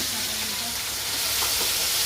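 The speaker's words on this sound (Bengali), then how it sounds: "কড়াই আমার গরম হয়ে গেছে পটলটা আমি তেলের মধ্যে দিয়ে দিলাম" Pointed gourd frying in hot oil in a wok, a dense continuous sizzle and crackle heard up close, with faint stirring noises and no talking.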